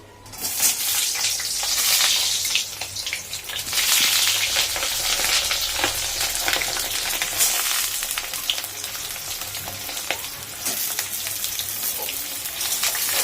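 Pointed gourd (potol) pieces fry in hot oil with a steady, loud crackling sizzle that swells and settles in waves, with occasional stirring scrapes and no talking.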